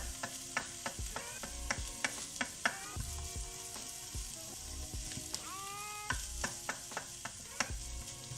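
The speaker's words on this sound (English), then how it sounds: "So just stir fry it in" Ingredients for a chicken tikka masala stir-fried in a pan, a continuous sizzle under frequent clinks and scrapes of a utensil against the pan, close and moderately loud, with no voices.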